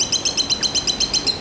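A pet bird in a 1985 Neighbours television episode chirps in a fast, even series of about nine bright, close tweets with no talk.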